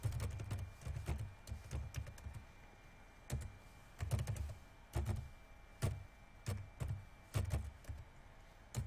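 Keys clatter on a computer keyboard as an Alt numeric code is entered, short bursts of close, crisp taps grouped in quick clusters with brief pauses between, no talking over them.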